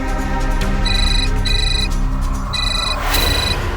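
A mobile phone belonging to a wife rings inside a parked car, its electronic ringtone repeating in short bursts over a constant background hum.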